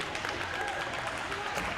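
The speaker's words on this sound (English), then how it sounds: "So big round of applause to our first aiders." A crowd at a track event applauds first aid volunteers, a soft, continuous patter of many hands clapping at a distance with a faint murmur of voices mixed in.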